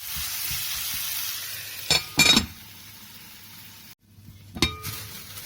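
Taro root (arvi) curry with softened tomatoes frying in a pan, a steady hiss of sizzling with a few sharp clinks and scrapes of a spoon against the metal as it is stirred, then a brief gap before more stirring.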